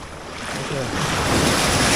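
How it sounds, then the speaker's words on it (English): Heavy ocean surf rolls in at a beach in Portland, Jamaica, a steady close wash of breaking waves that swells louder toward the end, with wind buffeting the microphone. "Waves start get heavy."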